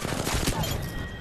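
Gunfire in a shooter video game, a rapid burst of sharp shots rattling over a second, loud and close, with a voice faintly present beneath.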